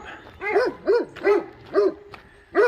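Dogs bark repeatedly outdoors in the early morning near an old farm along a hiking trail, a steady series of five or six moderately loud barks at an even rhythm.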